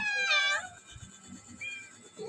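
Hungry stray cats meowing, one loud close drawn-out meow followed by fainter, shorter mews.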